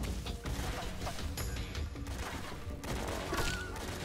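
Metal Gear Solid 3 gunfire cracks out in irregular bursts of sharp shots and impacts, fairly loud, with no talking.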